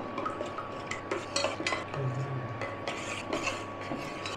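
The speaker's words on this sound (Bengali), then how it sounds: "এখানে এবারে গুড় নিয়েছি, দিয়ে দেবো, ভালো করে মিশিয়ে নেবো।" Date palm jaggery being stirred into cooling milk for Bengali chusi pithe, a spoon scraping and clinking steadily against the pot with soft liquid swirls and a low background hum, close and moderately loud.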